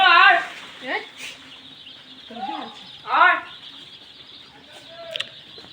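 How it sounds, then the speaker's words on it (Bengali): Layer chicken chicks in a brooder giving high, sharp chirps in short bursts, a few loud close peeps spaced by quieter calls and background noise. "প্রতিটি ব্রুডিংয়ে একশো করে বাচ্চা আছে"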